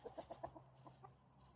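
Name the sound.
chickens and roosters clucking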